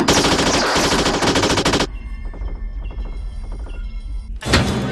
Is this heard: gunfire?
yes